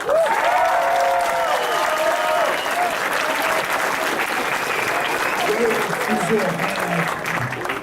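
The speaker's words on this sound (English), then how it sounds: "we'll give that man a round of applause" A crowd at a convention applauds loudly and continuously, the sustained clapping running throughout with voices and cheers mixed in underneath.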